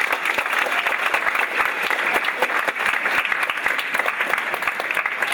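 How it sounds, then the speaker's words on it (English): Sustained audience applause for a musician at a UCSB Middle East Ensemble concert, dense and even clapping from a crowd throughout. "could you all applaud Jim Grippo?"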